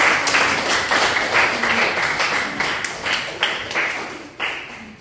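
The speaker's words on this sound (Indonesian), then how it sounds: "tepuk tangan untuk kelompok ini" A class claps in a classroom, a burst of scattered handclaps that gradually thins out and fades.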